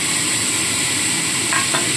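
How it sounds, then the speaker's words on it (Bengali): Sugar is added to star fruit frying in a pan and stirred for a sweet chutney. A steady, close sizzle and hiss runs throughout, with a brief scraping stir near the end. "চিনি দিয়ে দিলাম"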